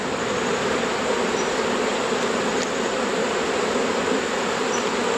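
Honeybees swarming loudly and continuously during a hive transfer, a dense, steady buzz close by with no pauses and no voices.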